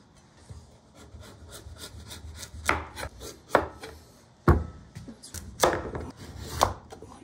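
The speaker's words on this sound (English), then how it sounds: "We're gonna cut it and add it to the soup." A sharp knife chops through firm butternut squash on a cutting board, a string of hard, thudding cuts with scraping in between, close up and fairly loud.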